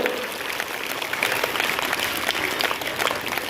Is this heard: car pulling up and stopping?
no